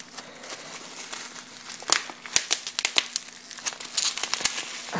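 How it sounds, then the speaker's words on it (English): Cardboard box packaging for a small RC wall charger is torn open by hand, a close run of crinkling, crackling rips and scrapes that grows busier partway through; no talking. "I'm just going to have to tear it open"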